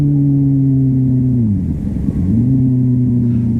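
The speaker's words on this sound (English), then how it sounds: "he's revving the motor, but the clutch release is so slow he loses all the revs from his throttle blip" Motorcycle engine idling steadily, then the revs drop away and a throttle blip brings them back up during a downshift as the clutch is slowly released, close and loud throughout.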